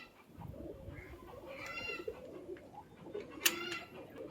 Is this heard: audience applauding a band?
no